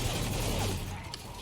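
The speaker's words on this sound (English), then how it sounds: "I think the gunfire is mostly like coming from" Gunfire in the video game Spec Ops: The Line, a dense, continuous rattle of shots and mechanical clatter filling the short stretch at steady loudness.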